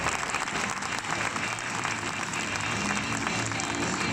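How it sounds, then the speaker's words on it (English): Audience applause at the NEC Restoration Show award presentation, dense continuous clapping from a large crowd filling the hall, loud and steady throughout. "Round of applause"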